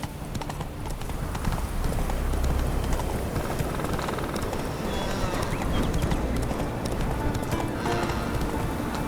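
Roach the horse galloping in The Witcher III, a rapid continuous clip-clop of hooves pounding close and loud, with a brief whinny and voices talking over the running.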